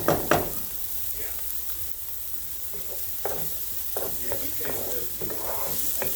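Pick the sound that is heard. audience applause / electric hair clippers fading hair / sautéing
sautéing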